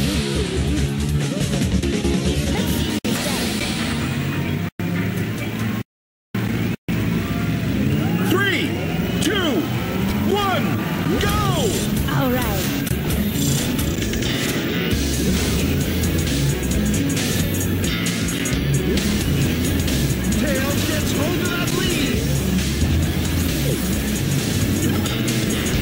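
Racing cars in Sonic & Sega All-Stars Racing, with Ulala driving, whine and roar around a twisty track, engines droning steadily with crashes and swooshes and one brief dropout, while a voice talks over the action.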